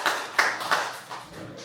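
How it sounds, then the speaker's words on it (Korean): A few listeners clap in a small room, three or four sharp separate hand-claps in quick succession that fade toward the end, fairly near and not loud. "그래서 박수 한번 쳐주세요."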